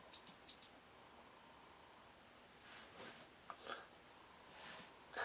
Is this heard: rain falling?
no